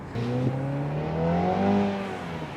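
A MINI Cooper JCW accelerates hard, its engine note climbing smoothly through the revs for a couple of seconds at close range, with no talk over it.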